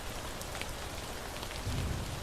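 Steady rain falls in a zombie video game, a continuous even hiss of drops on surfaces with a slightly heavier patch near the end, with no voices.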